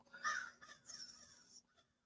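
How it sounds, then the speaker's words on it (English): Crows caw outdoors, heard as two long, hoarse calls at moderate distance with a softer trailing call after, set against a quiet background. "We've got a murder of crows out here."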